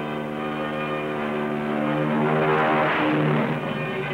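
A WWII torpedo bomber's propeller engine droning as it takes off from an aircraft carrier in 1942 archival footage, a steady loud tonal roar that swells toward the middle, no speech.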